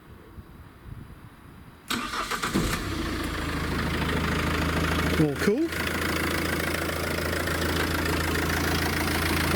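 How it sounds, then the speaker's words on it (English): A van engine cranks and catches after a quiet stretch, then settles into a steady, close idle, with a brief spoken remark over the running motor. "Let's start this engine up."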